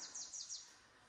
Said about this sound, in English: The birds are just amazing this morning.